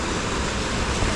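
Sea waves wash around a swimmer near an island lagoon, a close, steady broadband rush of water and surf noise with no voices.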